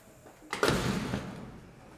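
A house door swinging open in an empty new home, a short creaking, rushing sweep with a faint echo of the bare room behind it.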